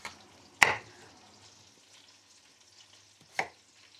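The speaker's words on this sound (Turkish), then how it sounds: "Patatesleri şöyle doğruyoruz." A knife cuts through potatoes in a home kitchen, prepared for a boiled chicken drumstick dish. Two sharp, isolated chopping strikes ring out in an otherwise quiet room, the first louder than the second.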